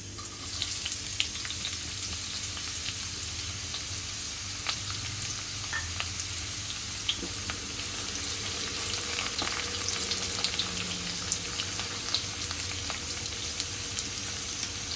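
Onion sizzles and crackles in hot oil, a close, continuous frying hiss with scattered pops and no talking.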